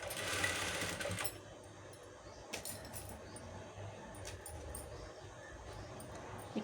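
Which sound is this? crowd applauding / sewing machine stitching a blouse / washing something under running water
sewing machine stitching a blouse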